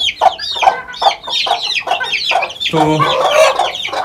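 Backyard chickens cluck repeatedly and close by in quick, uneven bursts. Sharper calls overlap near the end, and a voice briefly speaks under them.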